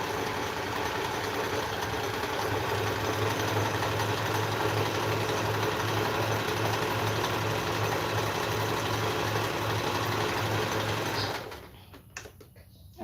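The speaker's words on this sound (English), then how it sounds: "I'm just going to stitch along the top quickly. Also, just a zigzag." A sewing machine runs a zigzag stitch along the top edge of fabric, its steady mechanical whir holding at a constant pace for about eleven seconds before stopping abruptly, with no talk.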